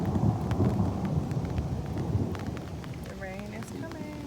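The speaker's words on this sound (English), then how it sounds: "This is kind of a normal heavy drizzle." Heavy drizzle falling outside a parked Tesla Model 3, heard from inside as a dense, steady patter and low rumble on the car body, with a voice talking over it.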